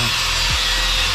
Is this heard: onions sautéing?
no